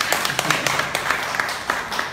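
A crowd claps for a singer at a village folk performance, producing a short burst of scattered, fairly close handclaps layered over a steady murmur.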